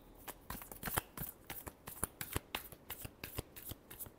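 Tarot cards are shuffled by hand in quick, crisp bursts of riffling and slapping, close and fairly quiet, with a rhythmic pattern and no voices.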